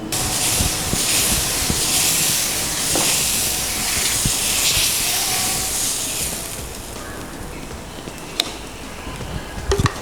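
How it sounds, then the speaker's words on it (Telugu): Instant dosa batter hits an onion-rubbed hot griddle with a loud, close, continuous sizzle that eases slightly toward the end, punctuated by a few sharp clicks. "ఇప్పుడు మనం ఉల్లిపాయ రుద్దుకున్న తర్వాత దోశని వేసుకుందాము"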